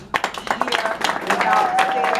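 An audience applauds the panelists at a panel discussion, with nearby clapping starting abruptly and building into steady, fairly loud applause across the whole stretch.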